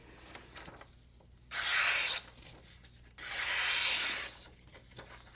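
A small knife with a compound grind slicing through material in two long, smooth rasping strokes, close and fairly loud, separated by quiet pauses.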